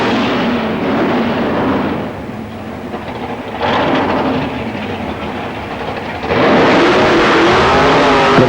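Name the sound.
drag racing car doing a burnout to warm its tyres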